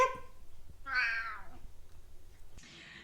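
A house cat lets out two clear, drawn-out meows close by in a quiet room, the second rising and falling, followed by a brief rustle.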